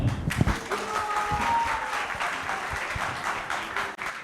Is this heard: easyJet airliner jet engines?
no